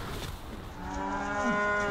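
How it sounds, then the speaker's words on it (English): A cow lets out a single long, fairly close moo with a rising, strained tone as the cattle are let out to pasture, heard alone over a soft outdoor background. "it's always worth seeing the cows go out"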